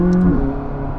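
McLaren 600LT engine intake drawing air through its channel, a steady low whooshing rush with a sustained droning tone that shifts slightly partway, close and fairly loud with no talk.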